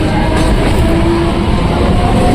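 Inside a Mumbai local train running toward CST, a loud, steady rumble of wheels and carriage noise fills everything, dense and unbroken from start to finish.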